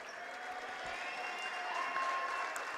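Crowd at a boys' varsity high school basketball game applauding in a gym, a steady dense wash of clapping and cheering that holds for several seconds, heard from within the stands.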